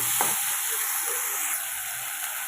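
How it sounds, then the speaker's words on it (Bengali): A spice paste of ginger, cumin, chili and garlic fries in a pan, a steady bright sizzle with a few soft stirring scrapes throughout. "মশলা রয়েছে আদা জিরে লঙ্কা রসুন মশলাটা দিয়ে ভালো করে কষি দেব"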